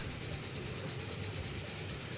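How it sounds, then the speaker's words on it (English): A train in the Transport Fever 2 video game rolls steadily along the track, giving a continuous low rumble with a soft rhythmic clatter at moderate, even volume. "riding along on the train"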